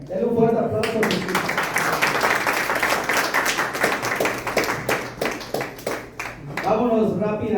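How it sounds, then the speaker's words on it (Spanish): Church congregation clapping for Jesus during a Spanish-language sermon, a loud burst of rhythmic applause that fills the middle of the clip, with a voice speaking before and after it. "Denle un fuerte aplauso a Jesús"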